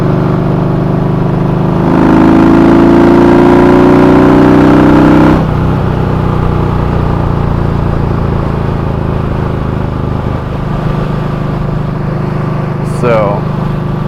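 A Yamaha V-Star 1300 Tourer cruiser with a Cobra 4-inch slip-on exhaust rumbles steadily and close, its deep engine note rising for a few seconds before settling into a constant drone.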